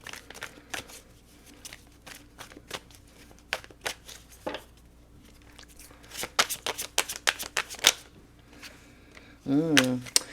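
Cards shuffled close up in sharp crackly bursts and taps, several rounds in a row, ending in a brief louder flurry.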